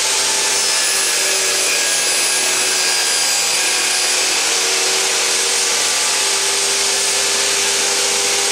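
Power saw cutting wood strips for a small box: a loud, steady high-pitched whine with a rough cutting hiss, held without a break until it stops abruptly at the end.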